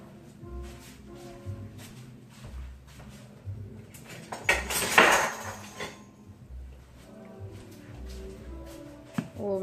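Butter stirred in a pan on a stovetop while it melts, with scattered light scraping and clinking of utensil against the pan and one louder burst of clatter midway.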